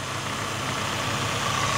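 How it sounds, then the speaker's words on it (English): A 1989 Mercedes-Benz SL300 (R107) automatic, fully restored, ticks over at idle under the open bonnet with a steady, even engine hum and no break in the sound. "it is very clean in here and is ticking over very, very nicely at idle"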